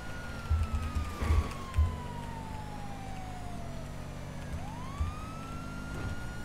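Wailing police car siren from GTA V, a steady descending tone that dips and rises again, heard mid-distance over a low engine rumble and a few thuds in a city driving scene.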